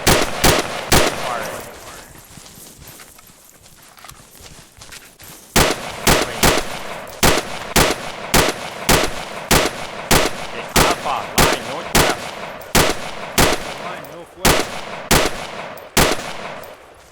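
Rapid, evenly spaced gunshots from a weapon, sharp loud cracks in steady bursts after a brief pause, with voices faintly present between shots.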